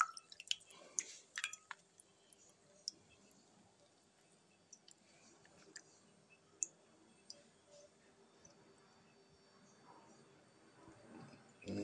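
Water drips out of a DJI drone battery that has been soaked in water, making faint, scattered drips and small clicks that are quiet and irregular over a near-silent background.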